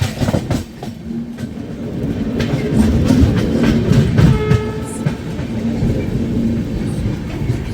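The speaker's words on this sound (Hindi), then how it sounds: "सेंट्रल रेलवेज की राजधानी ने महाराष्ट्र संपर्क क्रांति को ओवरटेक कर लिया है।" The Central Railway Rajdhani Express overtakes the Maharashtra Sampark Kranti, heard from the Mahakaushal Express. Loud, close clickety-clack of wheels runs throughout, with a horn sounding briefly partway through over the steady rail roar.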